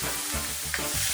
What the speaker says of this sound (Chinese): 生抽和料酒泼进去